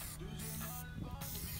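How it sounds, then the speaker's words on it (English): Plasti Dip aerosol spraying onto a car emblem during a heavy fifth coat, a steady close hiss that runs continuously with small shifts in intensity as the can moves around the emblem's sides. "As you can see, I'm also spraying on the sides, all around the emblem."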